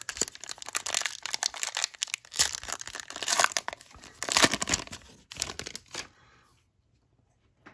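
Bowman baseball card packs are torn open, with dense crinkling and ripping of foil wrappers in close, busy bursts for about six seconds before the sound stops.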